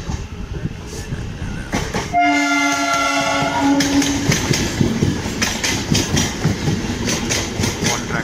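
An express train's horn blares for a couple of seconds, then wheels clatter rhythmically over track joints and points at Basin Bridge Junction, Chennai, as the train rolls on steadily.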